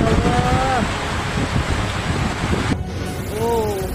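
Strong storm wind roars with heavy rain during flooding in Jakarta, a loud continuous rushing noise close to the microphone, broken by brief voices at the start and end.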